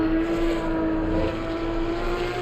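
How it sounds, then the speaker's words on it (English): Porsche race car engine in Assetto Corsa Competizione at Red Bull Ring, a steady loud drone with a constant pitch, held close and continuous throughout. "listen to the lovely engine, boys"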